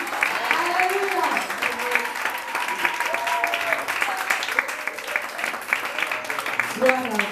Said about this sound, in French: Est-ce qu'on peut encore acclamer pour ce témoignage?